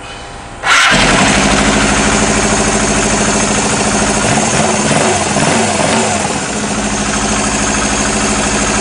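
An engine on a fuel-consumption test setup starts abruptly with a loud catch, then settles into a steady, rough, droning idle that holds close and loud for several seconds.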